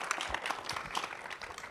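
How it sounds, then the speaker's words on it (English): An audience at a pitch competition gives a short round of applause, the clapping brisk and close and lasting under two seconds. "Can we give that a round of applause?"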